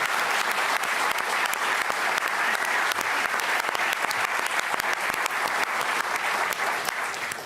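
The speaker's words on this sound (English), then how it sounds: "Give them a round of applause" Dense, steady audience applause fills a debate venue, sustained at an even level throughout and beginning to taper at the very end, with no voices above it.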